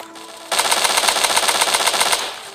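Automatic gunfire in the shooter game Battle Forces, a rapid evenly spaced burst of about fifteen sharp shots lasting around two seconds, loud and close with no talking.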